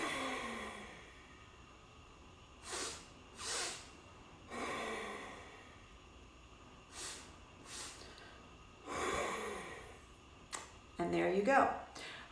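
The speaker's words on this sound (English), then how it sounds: "So inhale twice, exhale. Now let's do it together 3 more times." Breathing exercise of two quick inhales followed by an exhale, with audible nasal sniffs and airy breaths repeating in paired bursts several times, close and fairly soft.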